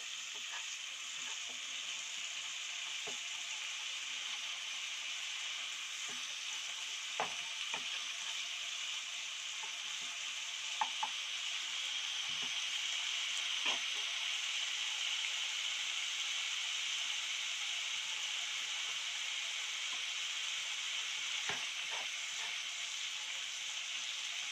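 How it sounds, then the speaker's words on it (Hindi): Ingredients for a potato egg kofta dish frying in a pan over full gas, a steady close hiss of oil with occasional faint ticks and pops throughout. "उनको 2 मिनट ऐसे थोड़ा सा फ्राई कर लेती हूँ"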